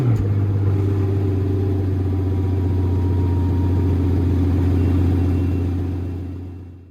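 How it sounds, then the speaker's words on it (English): The most powerful Pagani's engine runs with a loud, steady low exhaust rumble close by, holding even throughout before tapering off at the very end, with no voices. "We're going to start the car up now, let you hear that immense exhaust roar into life"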